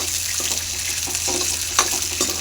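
Peanuts fry in hot oil in a pan, giving a steady sizzle with occasional stirring scrapes and soft bursts, close and alone.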